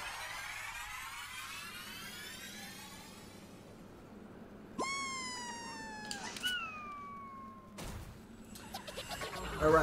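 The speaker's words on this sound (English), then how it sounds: "Of course, got the cat next to me." A pet cat meows close by, a drawn-out wavering yowl followed by two shorter rising-then-falling meows, over faint background game noise.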